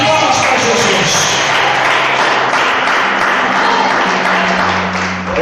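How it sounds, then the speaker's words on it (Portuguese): Church congregation clapping for Jesus during a Portuguese-language service on spiritual gifts, a steady dense wash of hand claps filling the whole stretch, fairly loud and close, with a slight dip near the end. "Fale palmas para Jesus."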